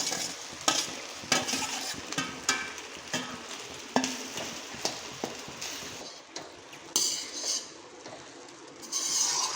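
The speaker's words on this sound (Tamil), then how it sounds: "இந்த மாதிரி சாதத்தை போட்டு நல்லா கிளறணும்" Cooked rice is stirred into egg fried rice in a hot pan, with repeated scraping strokes of a spatula over a continuous sizzle, close and fairly loud, and no talking.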